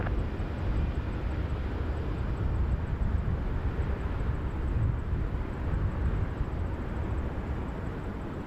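A Lufthansa airliner diverted from Munich to Toronto rolls down the runway at Montréal-Trudeau airport, heard as a broad, steady jet engine roar at moderate distance, with no talk over it.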